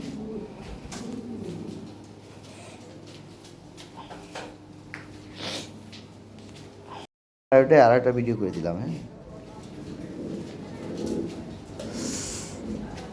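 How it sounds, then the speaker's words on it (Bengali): Lahori Shirazi pigeons, a breeding pair, coo softly in the background while someone talks throughout. The sound cuts out briefly midway, then returns louder with the talking. "দেখেন কত সুন্দর কবুতর"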